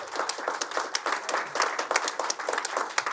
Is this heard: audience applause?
yes